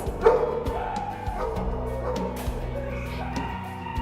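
Dogs and puppies bark and yip in the quarantine area of an animal shelter, with repeated overlapping barks close by and a voice talking faintly underneath.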